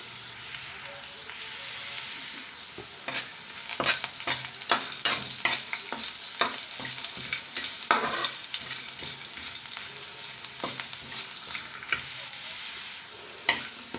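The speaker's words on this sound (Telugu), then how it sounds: "కొంచెంగా ఫ్రై చేసుకుందాం ఒక స్పూన్ నువ్వులు వేసుకుందాం" Sesame seeds and carrot pieces frying in a pan, a continuous close sizzle broken by repeated scraping stirs, with no talk over it.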